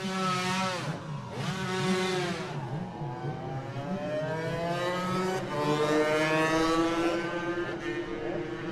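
A 250cc Loctite Yamaha two-stroke racing motorcycle on the Manx Grand Prix mountain course, loud and close, its engine screaming through rising and falling revs as it accelerates and shifts, no talk.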